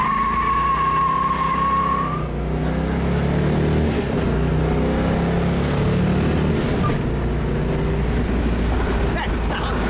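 A 1970 AMC Javelin Trans Am survivor's V8 engine revs hard and pulls away, a loud, steady roar that dominates throughout, with an early tone fading and voices faintly underneath.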